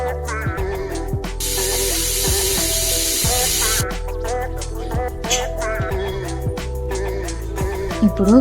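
A pressure cooker holding mutton curry vents a loud, continuous burst of steam hiss lasting about three seconds, over steady background music that keeps playing after the hiss stops.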